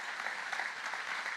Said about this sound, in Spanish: aplauso hacia el Señor